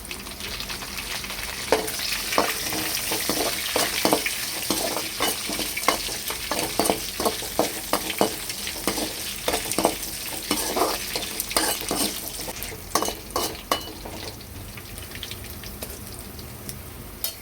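Cashews, chana dal, garlic and curry leaves fry in a pan with a steady, dense sizzle, punctuated by frequent sharp stirring clicks and scrapes throughout, close and fairly loud with no talking.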